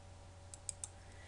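Two or three small, dry mouse clicks land in quick succession against a steady low hum of a quiet room, with no one speaking.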